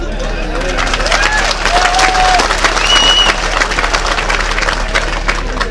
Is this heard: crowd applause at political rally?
yes